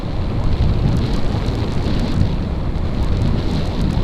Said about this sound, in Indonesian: Kayaknya ini udah mulai turun hujan deh guys.